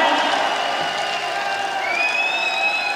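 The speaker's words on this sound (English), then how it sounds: "Big round of applause!" Concert crowd at a 1994 show at the Brixton Academy in London applauding and cheering, a steady dense wash of clapping and whoops filling the hall for three seconds, with a sustained tonal whistle or feedback line rising in the second half.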